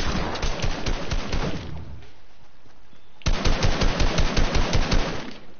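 Video-game gunfire rattles in two loud bursts of rapid automatic shots separated by a short pause, with no talk.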